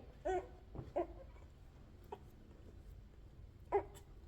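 A dog makes three short, faint grumbling growls, spaced apart, over quiet background noise.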